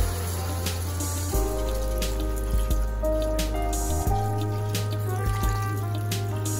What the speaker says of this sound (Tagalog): tansyahin lang natin yung ating water, yung enough lang para mapalambot natin yung ating oxtail